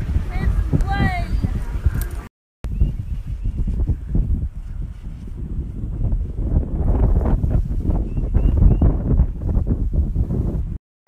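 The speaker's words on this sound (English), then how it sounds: "It's windy out here." Gusty wind buffets the microphone, roaring and rumbling in waves, with a brief dropout and people speaking intermittently beneath it.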